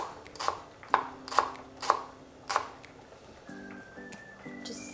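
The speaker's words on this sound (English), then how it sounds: "your white parts are going to be sliced pretty thin and added to your shallots" A knife slices the white parts of green onions thin on a cutting board, with about five distinct crisp chops at an unhurried pace, fairly faint against quiet kitchen background with faint tones.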